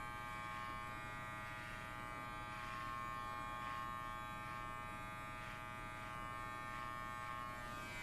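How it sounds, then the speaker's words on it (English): Electric hair clippers buzz steadily and close while trimming a very long, heavy beard, a continuous motorised hum with slight rises and falls as the blade moves through the hair. "So the back end of the clipper comes in."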